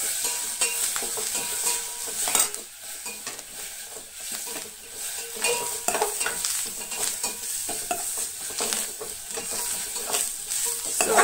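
A spatula scrapes and stirs clams sukka masala as it warms gently in a pan. Busy stirring clatters over a low, constant sizzle, close and continuous, with a short pause partway through.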